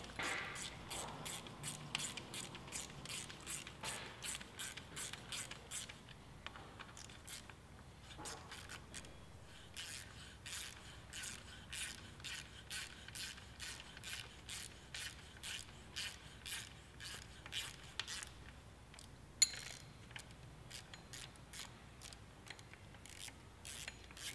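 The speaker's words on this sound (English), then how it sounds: "Just grab a 15mm and tighten your bolts back up." A 15mm ratchet tightens bolts on a Nissan Patrol engine during an LS swap, giving long runs of quick, quiet clicking pawl strokes in steady rhythm, with brief pauses between tightening passes.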